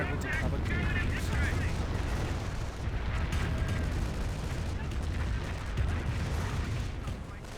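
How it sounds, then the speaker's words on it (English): Sniper rifle shots in the World War II strategy game Company of Heroes, mixed into a dense, continuous wash of battlefield gunfire and explosions, with a voice talking over the combat. "Got one sniper still firing away."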